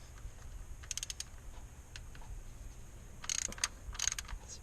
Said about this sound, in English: Alright, let's loosen them all.